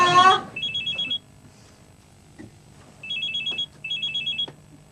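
A telephone bell rings in short trilling bursts: one burst, a pause with faint room sounds, then two more bursts in quick succession, loud and near.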